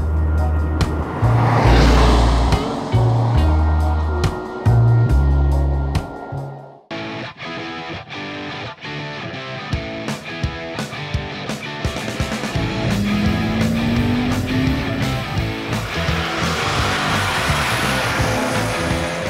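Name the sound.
BMW M235i coupé driving on wet roads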